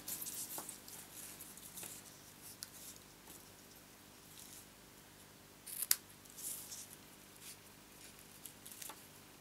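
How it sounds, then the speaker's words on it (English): Quiet, close-up snips of scissors cutting through ribbon, a few sparse crisp cuts scattered over soft background rustle. "ribbon scissors."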